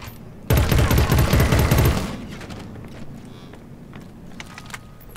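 Loud burst of sustained automatic gunfire from a combat drone in Killzone: Shadow Fall, lasting about a second and a half before cutting off, leaving faint game ambience and scattered small noises.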